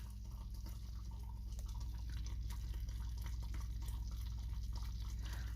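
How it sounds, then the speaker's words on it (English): Homemade mustard bubbling fast in a saucepan, a continuous run of small popping and dripping bubble sounds over a low steady hum, close up, with no talk. "Those are some fast bubbles"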